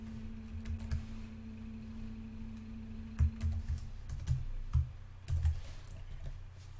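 Quiet keyboard typing with irregular bursts of key clicks over a low steady hum, close by and without speech.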